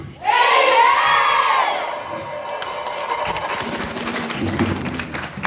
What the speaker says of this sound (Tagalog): Kung amen, sumigaw ka ng amen ng napakalakas.